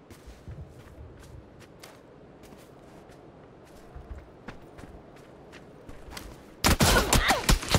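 Gunfire in a team shooter video game, a scattered run of sharp cracks over a low ambient bed, ending in a louder, dense burst of rapid shots.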